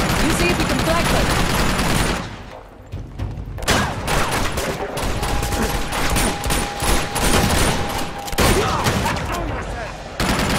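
Sustained automatic gunfire from a mounted gun in Uncharted 2: Among Thieves, dense rapid bursts that pause briefly then resume, with voices shouting over the shooting.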